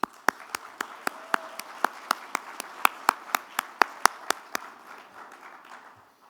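Audience at the Delaware Service Excellence Awards clapping for Representative Krista Griffith, a run of about twenty crisp, evenly spaced claps that fades out near the end, with no talking over it.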